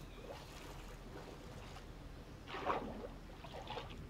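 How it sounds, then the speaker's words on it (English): Ocean waves washing onto a beach in a modded Minecraft world, a soft, steady surf wash that swells briefly near the middle before settling back to a low, continuous rush. "It sounds like waves on a beach."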